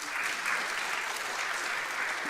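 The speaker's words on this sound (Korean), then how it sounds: "여러분, 우정면 장로님께 박수 한번 치시기 바랍니다." A church congregation applauds an elder during a Korean sermon, a steady, even round of many hands clapping together for a couple of seconds, with no voices over it.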